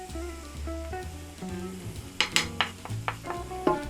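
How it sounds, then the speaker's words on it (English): Smoked paprika, chili powder, ginger and salt toast in oil in a pan, giving a soft sizzle under a steady low hum, broken by several sharp clicks and scrapes of a utensil stirring against the pan. "Now it's time to toast our spices."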